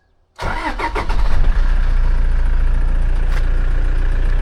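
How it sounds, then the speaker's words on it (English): A Toyota Hilux engine cranks over briefly and catches, then settles into a loud, steady idle, close by with no talking. "When the Hilux starts, it's a fucking Hilux, of course it starts."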